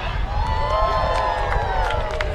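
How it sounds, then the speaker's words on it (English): A high school football stadium crowd cheers and whoops in a sustained, dense roar, with scattered shouts and clapping over the steady wash of voices. "Woo, wow, woo, goes the crowd"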